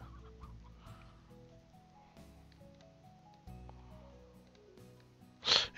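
Chickens clucking in the video game Slime Rancher, faint clucks over soft background game music, followed by a louder burst near the end.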